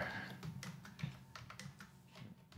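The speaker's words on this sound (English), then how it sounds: "You can type whatever you want here." Typing on a computer keyboard while entering text in a Fusion text tool, with a brisk, irregular run of close, light key clicks over a low background hum.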